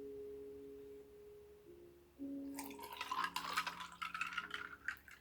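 Water is dumped from a container onto crystals in a bowl for a magic trick: a few faint ringing tones first, then a close, splashing pour that gurgles for a couple of seconds and trails off into drips.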